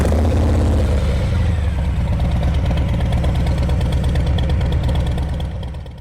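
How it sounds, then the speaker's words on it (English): Harley-Davidson Heritage motorcycle engine idling close by, a steady low rumbling lope that continues evenly before fading slightly at the end. "we're going to be taking the Harley Davidson Heritage out to Samford Village"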